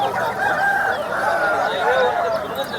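Roosters crow nearby at a rooster market, overlapping drawn-out calls with some clucking, loud and continuous over background bustle.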